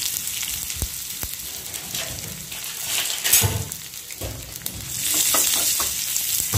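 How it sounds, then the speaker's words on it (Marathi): Mustard seeds crackle and sizzle in hot oil for a tempering, alongside asafoetida, chilli, cumin, sesame and curry leaves. A close, busy popping fry continues throughout with scattered sharper snaps and no talk. "मोहरी दाणे तडतडले, गॅस बंद करा।"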